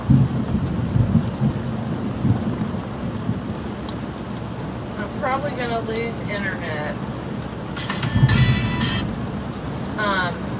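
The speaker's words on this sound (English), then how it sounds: "because of the storm and the lightning. It's really coming down right now, hard." Heavy rain pours down during a thunderstorm, with low rumbles of thunder rolling beneath a steady hiss of rain, while a person talks briefly over the downpour.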